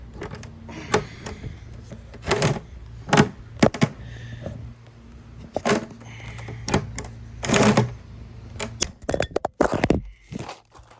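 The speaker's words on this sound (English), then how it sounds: "and then I use a rivet gun" A rivet gun setting a rivet through a ring on a plastic 55-gallon barrel, heard as irregular sharp clicks and squeezing clacks, close and fairly loud, with light handling noise between strokes.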